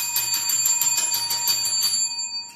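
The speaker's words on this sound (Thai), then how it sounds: "ใส่กระดิ่งก่อน" A small bell rings rapidly and repeatedly in a bright, metallic, steady tinkling pattern, then stops abruptly near the end, leaving only a faint fading ring.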